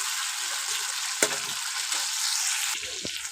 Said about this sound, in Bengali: দেখতে পাচ্ছ আমি কেমন ভাবে নাড়িয়ে নাড়িয়ে ভেজে নিচ্ছি মশলাটা খুব ভালো করে।